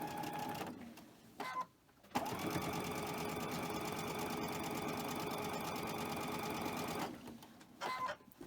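A sewing machine stitches cotton fabric in a close, steady mechanical whir with a rapid rhythmic needle clatter, running for several seconds between brief pauses and starting again at the end.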